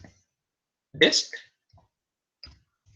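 A few sharp mouse and keyboard clicks while a cell is selected and typed into in an Excel spreadsheet; one louder burst of clicks sits among fainter isolated taps in a quiet room.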